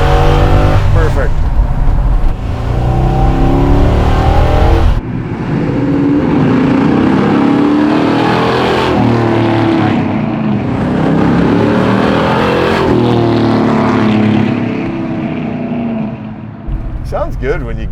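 Dodge Charger with a Hemi V8 in Destroyer Grey, its engine rumbling loudly and surging through several revs and shifts, heavy low roar with a brief drop, people talking over it.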